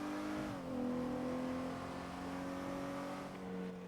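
A truck drives past in a GTA roleplay game, a steady engine drone with a slight pitch shift near the start, moderately loud and continuous, with no talking.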